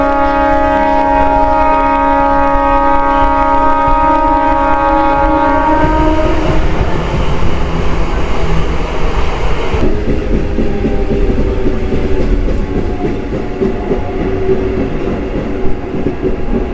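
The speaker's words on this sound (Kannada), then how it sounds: "ಟ್ರೈನ್ ನಮ್ದು ಹೊರಟ್ಬಿಟ್ಟಿದೆ. ಇದು ಚಿಕ್ಕಬಳ್ಳಾಪುರ್ಗೆ ಹೋಗ್ತಿರೋದು." A train pulling out of Nandi Halt station bound for Chikkaballapur, with a long loud horn blast at the start, then the rumble and clatter of the wagons rolling past close by.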